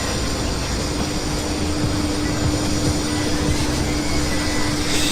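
A BetaFPV Pavo Pico V2 sub-100g cinewhoop FPV drone dives, its small propellers producing a steady high-pitched whine with a constant tonal hum, loud and close throughout.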